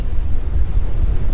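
Strong wind of around 25 knots with occasional gusts buffets a solo sailboat crossing the Mediterranean toward Lesbos, a steady low roar with sea noise running throughout, loud and close.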